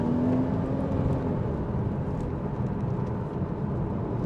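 A 2013 Porsche Boxster S 981 with a 3.4 engine and PDK gearbox pulls hard from inside the cabin, a loud steady engine roar with rising pitch early on, continuous and close, no talking.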